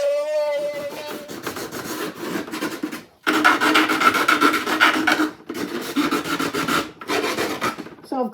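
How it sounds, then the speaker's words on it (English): Continuous rasping rub of sandpaper worked around a large freeform epoxy resin sculpture, loud and close, in long strokes broken by a few brief pauses. "I've got to go all the way round there and sand it"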